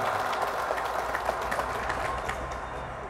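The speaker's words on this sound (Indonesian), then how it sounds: "Maka tepuk tangan untuk kecamatan Sungai Ambawang." Crowd applause for Sungai Ambawang district at a public gathering with an Islamic preacher, a steady dense wash of clapping held at even loudness for about three seconds with no speech over it.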